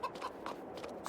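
Chickens in the Farming Simulator 22 farming game cluck softly in a handful of quick, faint calls spread across a brief moment, with no other sounds intruding.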